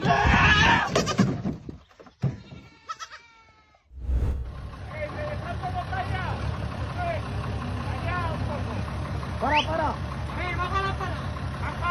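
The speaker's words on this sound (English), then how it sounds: "Did you get stuck, poor goat?" A goat on a farm bleats several times in wavering cries, heard close over rustling and handling noise, with people talking around it.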